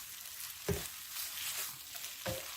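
Pad thai with crushed peanuts sizzles in a hot pan while being stirred, a steady close frying hiss broken by a few distinct scraping strokes of the utensil.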